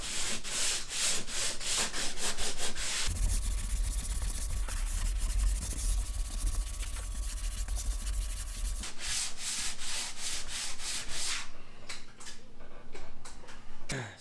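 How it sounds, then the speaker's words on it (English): A pole sander scrubs across a drywall ceiling patch in long, continuous rasping strokes, close and fairly loud, with short rhythmic rubbing passes at the start and end. "So we're going to use this right now and get sanding"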